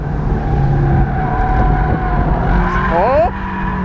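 A Toyota GT86 drives on the Tabasalu kart track, its engine droning steadily under talk inside the car until a brief, sharp tyre squeal rises near the end.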